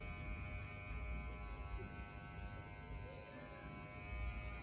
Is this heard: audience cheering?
no